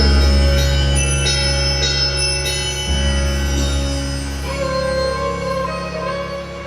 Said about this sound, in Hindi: जैसे ही घंटी बजी